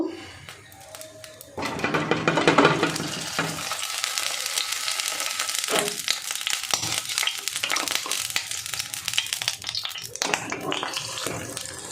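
Omelette made with boiled potatoes and eggs sizzling in hot oil in a frying pan, a loud crackling hiss that swells after a quiet start and carries on steadily with stirring scrapes.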